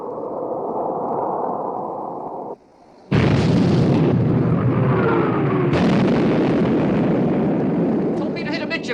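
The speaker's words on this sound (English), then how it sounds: "Open fire, main armament." Heavy gunfire from the main armament of a British warship in a 1960 naval war film about sinking the Bismarck: loud, sustained booming blasts that fill the clip after a brief drop, with voices mixed in.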